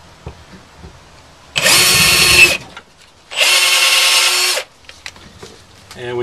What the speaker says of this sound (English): let me go ahead and pre-drill the holes on this.